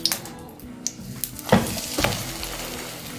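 Eggs, cheese and tomatoes fry in a pan, a soft steady sizzle broken by a few sharp clatters and a louder scrape as the food is flipped, close up with no voices.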